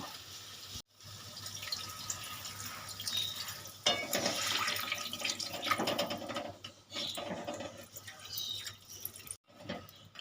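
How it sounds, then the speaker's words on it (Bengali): Water poured into a pan of spiced Bengali duck curry (hansher mangsho kosha) after the meat has been browned in oil, giving a steady splashing, trickling pour with drips at moderate distance. "এবার আমি এখানে অল্প পরিমাণে জল দেব"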